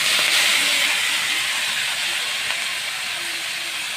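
Chheti greens dropped into hot oil with fried garlic and dried chilli, producing a loud, continuous hissing sizzle close by that fades slightly over the few seconds.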